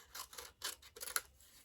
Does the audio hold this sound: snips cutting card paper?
yes